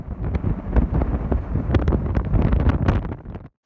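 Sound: strong wind at Blankenberge harbour

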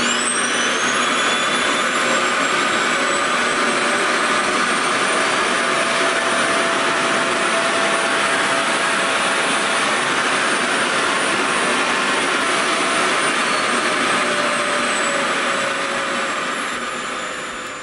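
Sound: Revair reverse air dryer running

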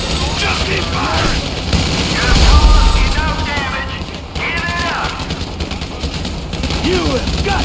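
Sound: gunfire in the video game Grand Theft Auto V

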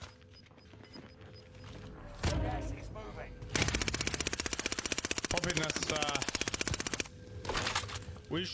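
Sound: gunfire in an online shooter video game

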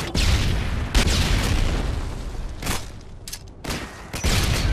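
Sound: stun grenade exploding in video game Modern Warfare 2

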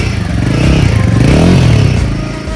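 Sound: Royal Enfield Himalayan 450 motorcycle exhaust note while revving

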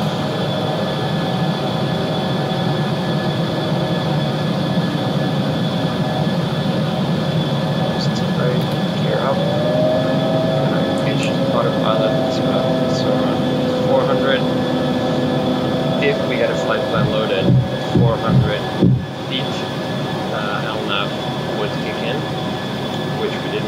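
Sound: Embraer E190 rolling down runway, flight simulator video game

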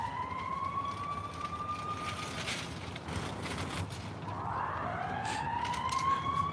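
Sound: emergency vehicle sirens

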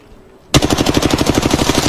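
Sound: gunfire in the video game Apex Legends

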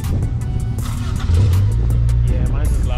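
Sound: car engine revving

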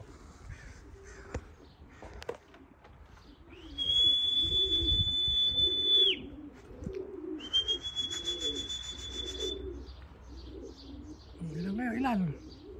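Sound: racing pigeons arriving at the loft, cooing

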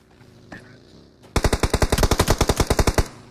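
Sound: MG3 machine gun gunfire in a video game

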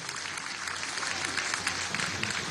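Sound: audience applause for a newly opened people's clinic

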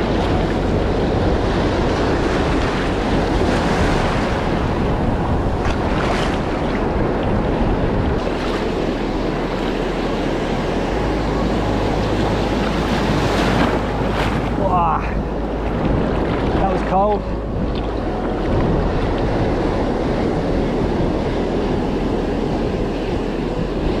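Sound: ocean swell waves breaking in the surf

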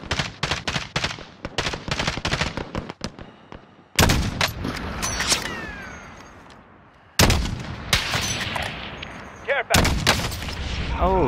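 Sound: gunfire in a shooter video game

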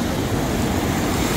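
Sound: fast-flowing swollen Ganga river water at Rishikesh

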